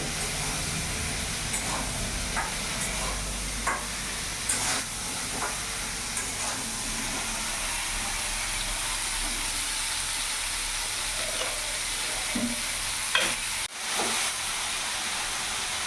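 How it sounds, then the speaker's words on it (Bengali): Whole okra (bhindi) frying in hot oil over a full gas flame, giving a steady broadband hiss and sizzle throughout with occasional small pops, close and continuous, no talk. "তেল গরম হয়ে গেছে, এখানে আমি পুরো ভেন্ডিটা দিয়ে দিলাম। গ্যাসের ফ্লেমটা আমি ফুল রাখবো, ফুল আছেই আমি ভেন্ডিটা ভেজে নেব।"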